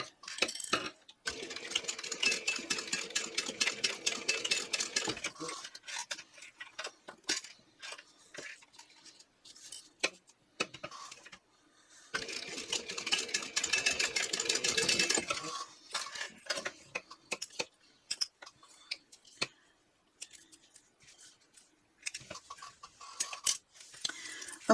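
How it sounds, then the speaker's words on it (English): A sewing machine top stitches a clutch bag in long, steady runs of rapid stitching, and between the runs come pauses filled with clicks, taps and handling noises close by. "Now we are going to top stitch using a 1/8 inch seam allowance."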